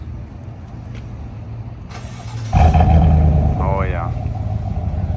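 A truck with a muffler-delete exhaust rumbles low at idle, then jumps to a louder, deeper rev midway and settles into a throaty drone, with a brief spoken exclamation over it.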